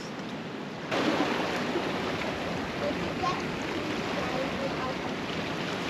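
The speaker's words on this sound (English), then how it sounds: "little cave with waterfall" Water falls into a small cave with a constant, echoing rush, fairly loud and steady, and the noise swells after the first second.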